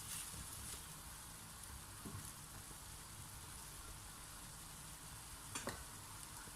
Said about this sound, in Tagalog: ituloy lamang po natin ang ating paghalo